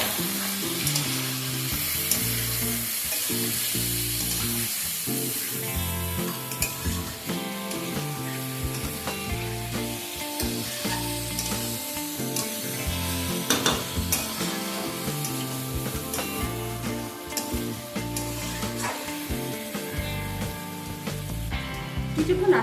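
Crushed onions with salt frying in a pan, a continuous loud sizzle with occasional stirring scrapes and clinks of utensils running throughout.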